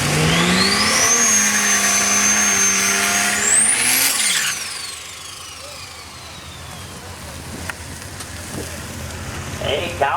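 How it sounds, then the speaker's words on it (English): A Studebaker six-cylinder turbo drag car revs hard and loud for about four seconds with a rising whine, then drops off to a quieter rumble and fades into track ambience. "Calvin Nelson, this is one different automobile. Studebaker, 6-cylinder, turbo"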